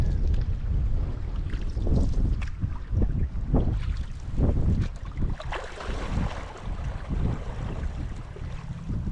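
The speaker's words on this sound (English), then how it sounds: "Bit of wind." Steady wind buffets the microphone while canoe camping out on the water, a continuous rough rumble with gusty swells, likely mixed with faint water and paddle sounds from the canoe, and no talk.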